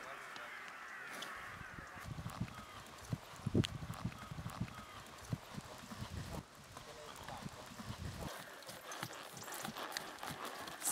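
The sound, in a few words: trotter horse trotting, hoofbeats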